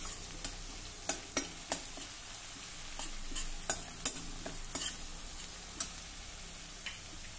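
Kharda spice paste is stir-fried in oil, with a soft continuous sizzle under repeated light taps and scrapes of a spatula against the pan, irregular and close, without any talking.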